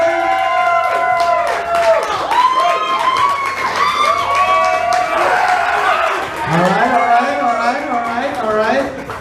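An audience at a comedy roast battle claps, cheers and screams in a loud, sustained wave, with whoops and yells rising and falling over the crowd noise.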